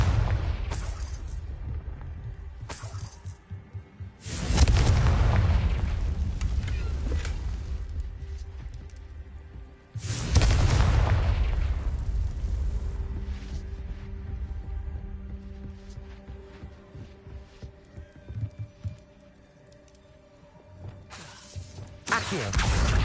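Confringo fire-blast spells explode in Hogwarts Legacy: two loud, deep blasts several seconds apart, each with a crackling, shattering burst that slowly decays, surrounded by smaller sharp hits and quieter gaps.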